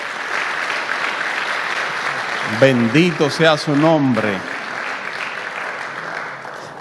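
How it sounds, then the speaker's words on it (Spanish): Church congregation applauding, with steady clapping throughout and someone speaking briefly over it midway. "dele el aplauso al Señor"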